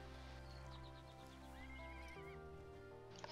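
A young foal mount in the online game ArcheAge whinnies and nickers in a series of short, high, wavering calls, then a longer whinny, over a soft game background hum, with no talking.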